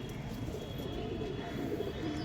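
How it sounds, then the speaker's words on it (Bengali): Pigeons, including pedigree Fulsira and Kalanka birds kept in a fancier's loft in Khidirpur, coo in low murmuring tones that blend into a steady soft rumble, fairly close, with no clear talking. "পায়রাগুলো দেখো"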